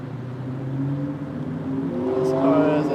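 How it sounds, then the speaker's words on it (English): A car engine runs close by on a road, a steady low hum whose pitch and loudness climb gradually as it accelerates or draws nearer toward the end. "I'm hearing this engine sound on the left of me"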